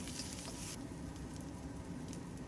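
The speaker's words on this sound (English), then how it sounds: "So stir fry it until lightly golden brown" Tofu stir-frying in a pan for fried rice, a faint, dense, even sizzle and crackle running continuously without pause or talk.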